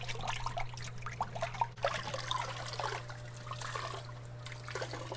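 Aquarium plants being shaken and squeezed out in a container of water in a fish room, steady sloshing, trickling and dripping close by, with a constant low electrical hum from equipment behind it.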